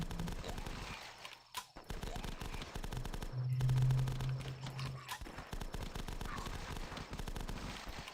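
Rapid video game gunfire crackles in dense, continuous bursts across the whole stretch, steady and fairly loud, with a brief lull near the start and a heavier rumble midway.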